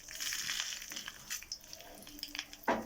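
Dried red chillies, urad dal, cumin and mustard seeds sizzle in hot oil for a tempering, a steady close crackle and hiss with a sharper pop near the end.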